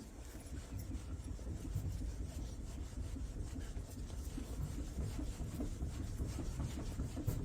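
A buffing rag rubs wax polish onto a surface in a shed, a continuous scratchy back-and-forth rubbing that goes on steadily throughout at moderate, close volume.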